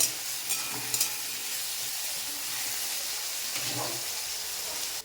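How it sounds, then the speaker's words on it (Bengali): Potatoes fry in a pan, giving a soft, steady sizzle with a few light clinks and stirring scrapes near the start, fairly quiet and close. "আলুটাকে আমি লাল লাল করে দিয়ে নেব"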